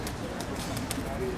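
Pigeons in historic Odessa, Ukraine, cooing softly in short low calls over a constant outdoor hum. There may be faint voices in the background.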